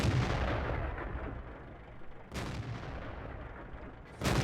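Two loud, sharp booms from the TOG II tank's gun in the video game World of Tanks, one at a time with a long gap between, each cutting off into a decaying rumble.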